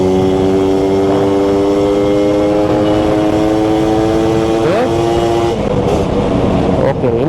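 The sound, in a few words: motorcycle engine revving, Suzuki Satria Hiu or Yamaha F1ZR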